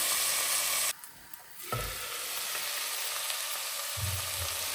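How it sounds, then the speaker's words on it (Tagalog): Potatoes and carrots fry in a pan for chicken menudo. There is a loud, hissing sizzle, a brief quieter stretch, then steady frying with occasional stirring bumps, all without talk. "Kalimutan ko, i-fry pa pala to."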